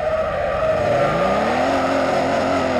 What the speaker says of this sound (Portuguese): dá só um driftzinho nessa rua aqui, velho